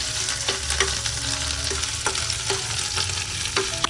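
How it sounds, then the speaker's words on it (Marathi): Prawn masala frying in oil, a steady dense sizzle with repeated scrapes and taps of a stirring spoon against the pan, close and fairly loud. "छान असं तेलात परतून घेऊ आपण."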